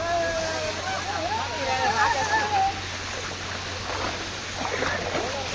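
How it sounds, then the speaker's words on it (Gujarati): Water spraying under full pressure at a water park, a steady broad hiss with splashes rising toward the end, while people talk and laugh over it throughout. "હવે ભાઈ પાણી ઉડે છે આ બધું હવે."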